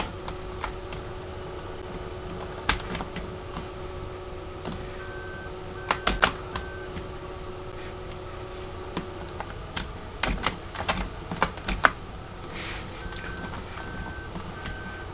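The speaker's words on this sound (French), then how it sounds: "Excusez-moi si vous entendez mes touches de clavier. Mais bon, je joue au clavier." Keys clatter on a computer keyboard during a farming simulator game, scattered clusters of quiet clicks heard close, with faint game tones underneath.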